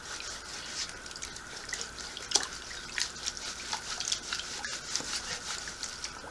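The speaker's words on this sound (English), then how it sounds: "and dunking it in the water" Wet mop pad sloshing as it is dunked and rubbed back and forth in a sink of water, giving soft irregular drips, splashes and trickles, fairly quiet and close with no talk.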